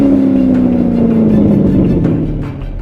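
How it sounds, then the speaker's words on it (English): A Chevrolet Corvette C7 Stingray with a Borla Attack exhaust roars loudly and close, its deep engine note holding steady and then sliding slightly lower as the revs ease off. "And then there's Borla's Attack, a big volume rush that's tuned like a graphic equalizer."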